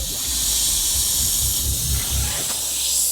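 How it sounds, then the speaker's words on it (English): An Iwata Eclipse airbrush sprays paint in a broad pattern, giving a continuous airy hiss at close range with soft low thumps underneath. "So with the Eclipse first, broad spray"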